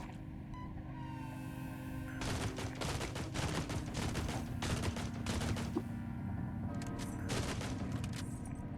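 Chain pistols firing in the video game Caves of Qud, rapid bursts of sharp repeated shots in several volleys, loud and close over a steady low game hum.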